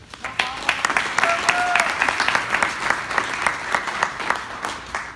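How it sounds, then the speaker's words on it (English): Indoor audience applauds a guest speaker at a health talk, a full steady round of clapping with distinct sharp claps and a couple of brief voices or whistles, fairly close and sustained throughout. "So please give her a round of applause."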